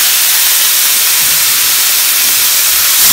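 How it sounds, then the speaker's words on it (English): Chicken sizzles in a hot pan with a loud, steady, hissing crackle that stays constant throughout, close up and alone. "Add my chicken inside the pan and thicken it up."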